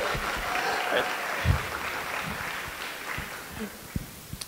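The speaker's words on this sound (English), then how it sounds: "let's give him a round of applause as well for being the bestest man" Guests clap for the best man at a wedding reception, a broad steady wash of applause with a few sharper hand claps standing out near the end.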